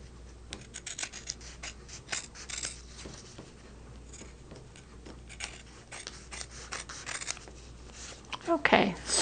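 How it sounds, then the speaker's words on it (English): Utility scissors snip and rasp through fabric and paper in a run of quick, close cuts, with light rustling between strokes and a louder crinkle of handled scraps at the very end. "I like to use my utility scissors because I'm cutting through paper as well."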